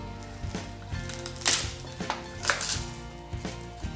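Garlic is finely chopped with a knife on a board, a quick run of sharp, close taps with a few louder knocks, heard alone at a quiet level with a faint background hum.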